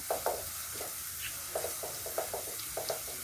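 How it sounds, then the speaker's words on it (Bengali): Chopped onion fries in hot mustard oil, a steady soft sizzle with light, irregular stirring scrapes and clicks, close but fairly quiet, no voices. "আমি সরিষার তেলের মধ্যে পেঁয়াজ কুচি দিয়ে নিলাম"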